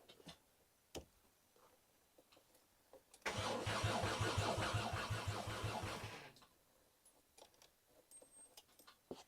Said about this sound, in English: Let's try to crank it again.